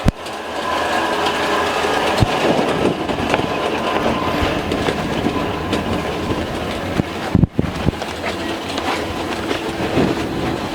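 Port inboard engine of a boat running steadily at idle, a loud continuous mechanical drone with rhythmic clatter, briefly interrupted near the end, with no talk over it.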